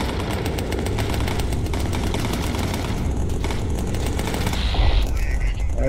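Rapid machine-gun fire from bomber gunners in the video game Bomber Crew, a dense continuous rattling burst lasting several seconds, loud and close with a mechanical clatter near the end.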